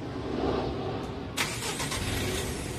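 A Mitsubishi L300 Euro4 van's diesel engine cranks and catches with a sudden broadband burst, then settles into a steady loud idle rumble following an earlier stretch of constant engine noise, recorded up close.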